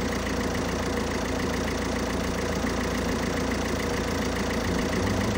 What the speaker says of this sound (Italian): con la macchina in moto